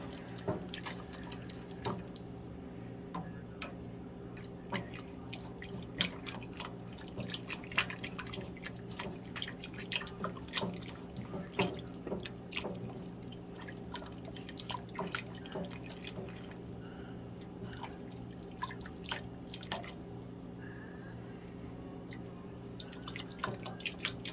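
Liquid from a chicken paprikash dripping through a small kitchen strainer, steady faint drips scattered across a quiet background hum.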